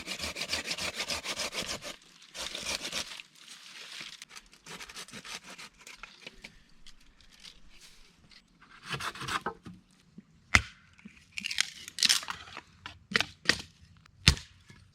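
Willow bark being harvested and scraped by hand in spring, the outer bark rasped off to reach the inner layer: repeated close, rough scraping strokes, some long and broadband, ending in sharper snaps and scrapes.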